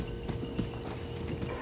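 Horse hooves clip-clopping in the Far Cry 6 video game, a quick irregular run of soft thuds on the ground, fairly faint against a low background.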